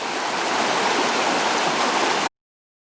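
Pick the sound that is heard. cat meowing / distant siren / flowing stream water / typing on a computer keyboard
flowing stream water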